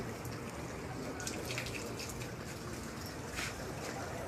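Water running and splashing steadily from a tap or cooler into a cup for drinking, continuous trickle with a busy crowd murmuring around it outdoors at Jannat al-Baqi cemetery in Madinah.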